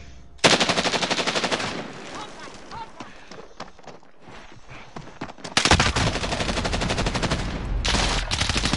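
Gunfire rattles in a Call of Duty match, two loud close bursts of rapid automatic shots separated by quieter scattered shots, with players talking now and then.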